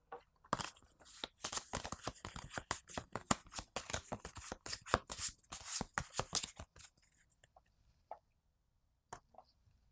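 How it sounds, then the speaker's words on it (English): A deck of cards for the Zombie Horde board game being shuffled, a rapid run of crisp riffling flicks for about seven seconds, close and clear, then a few faint isolated card taps before it goes quiet. "Make sure this is shuffled up."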